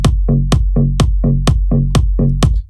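Punchy kick drum locked with a layered synth bass, about ten loud, tight hits in a steady driving pulse, each one a sharp thump with a booming low tail, heard alone without voices.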